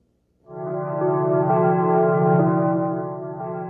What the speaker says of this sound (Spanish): Observen, inicia con campanas como de iglesia.